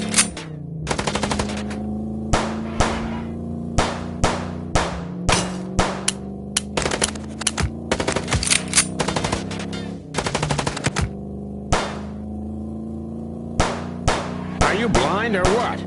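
Bursts of automatic gunfire from the detective game Chicken Police ring out in repeated volleys across the scene, sharp clattering shots stacked over a steady engine-like drone from a moving vehicle.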